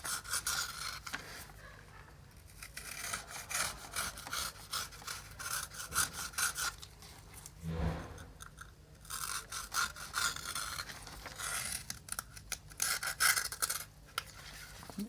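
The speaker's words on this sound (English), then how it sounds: "Okay, I think I've scraped off enough." Scraping inside a Samsung Galaxy M31 smartphone during a repair, a faint, close, rhythmic rasping of a tool over small components, continuing in repeated strokes with brief pauses and no talk.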